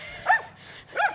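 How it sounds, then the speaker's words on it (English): A dog named Mickey gives two sharp barks roughly half a second apart, nearby and clear, with no speech. "Might have noticed the dog."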